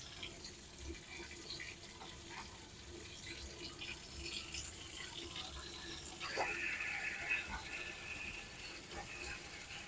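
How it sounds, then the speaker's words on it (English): Part of a Fluval FX6 aquarium canister filter is rinsed under a running tap, a faint steady water hiss with intermittent clicks and handling clatter and a brief louder splash. "So, yes, I rinse it out in tap water."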